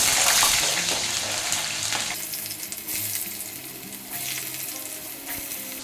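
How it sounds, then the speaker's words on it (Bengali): Two medium potatoes cut into cubes fry in mustard oil, giving a steady, loud, close sizzle with a dense crackling hiss that stays even throughout, punctuated by a few soft clinks. "দুটো মিডিয়াম সাইজের আলু কেটে নিয়েছি ডুমো ডুমো করে এটা ভেজে নেব"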